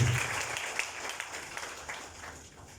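Wedding guests applaud the second witness with a brief burst of steady clapping, moderately close, tapering slightly over a few seconds with faint room murmur beneath.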